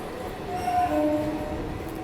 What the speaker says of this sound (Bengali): আর 1 নম্বর প্ল্যাটফর্মে একটা ট্রেন ঢুকছে